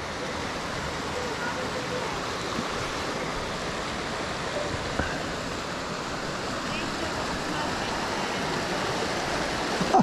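The river below Aira Force waterfall in the Lake District rushes by in a steady, full-bodied roar of flowing water, close and constant, with faint voices of children playing half-buried beneath it.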